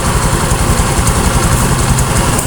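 A Rapido motorcycle engine running steadily after being restarted, a loud close rumbling idle with a constant low throbbing pulse and no talk.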